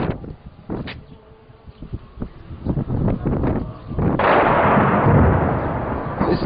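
Artillery shelling and rocket fire in Homs, dull booms and cracks at a distance that build into a sustained rumbling, loud roar in the final seconds.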